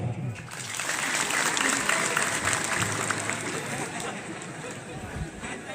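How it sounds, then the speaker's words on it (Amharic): A seated audience claps together at a religious teaching gathering, a dense, steady wash of applause lasting several seconds with a murmur of voices beneath it. "እስቲ በአንድ እጃችሁ አጨብጭቡ"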